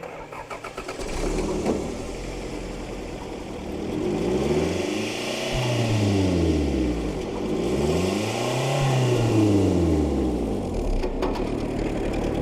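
A muffled motorcycle engine fitted with a silencer hidden in a canister revs up and down in slow, swelling waves, a deep steady drone rising and falling in pitch, close by with no voices.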